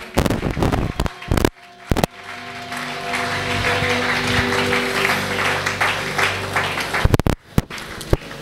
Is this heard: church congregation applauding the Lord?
yes